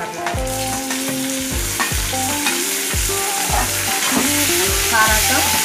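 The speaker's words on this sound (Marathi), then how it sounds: "आता मिरची आणि कांदा चांगला लाल झालेला आहे, त्यात आपण टॅमॅटो ॲड करणार आहे" Chili, onion and tomato fry and sizzle in a pan for an okra curry, with a steady loud hiss and repeated rhythmic scraping strokes of a spoon stirring close by, and no talking.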